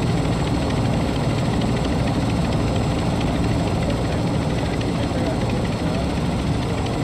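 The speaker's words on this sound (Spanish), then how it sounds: "El helicóptero está lleno" An extraction helicopter in Call of Duty Warzone 2.0 DMZ drones with a steady loud rotor and engine roar that fills the whole stretch without a break.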